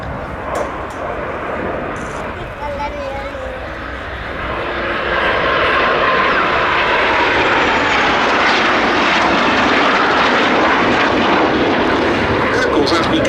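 A BAC Strikemaster jet with an uprated Rolls-Royce Viper engine flies a pair display at the Duxford summer air show, its roar building to a loud, sustained whine as a commentator speaks over it.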